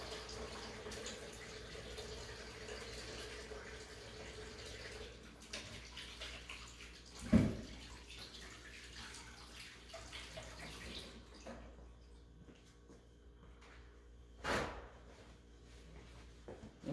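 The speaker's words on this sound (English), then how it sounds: "I'll wash my hands real quick" Tap water runs steadily for about eleven seconds as hands are washed in a home kitchen before baking caramel rolls. It is a soft, even hiss with a couple of sharp knocks, then fades to quiet.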